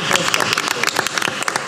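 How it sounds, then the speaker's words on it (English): A round of applause for a colleague at a school board meeting, a short burst of close, uneven clapping from a small group in a meeting room. "can we just give a round of applause to our colleague"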